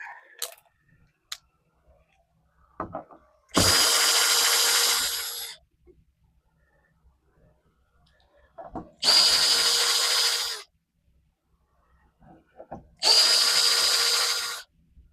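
A power drill removes screws from a fence gate handle in three loud, close whirring bursts of about two seconds each. Quiet clicks and handling noises fill the pauses between them.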